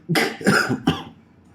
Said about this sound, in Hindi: थोड़ा बीच बीच में आ जा रही खांसी